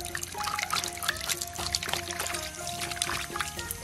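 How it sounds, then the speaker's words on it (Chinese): A large 4 kg fish head is rinsed in water, with close splashing, pouring and trickling sounds in uneven bursts, fairly quiet and without speech. "把鱼头洗一洗，把这黑沫给刮一刮"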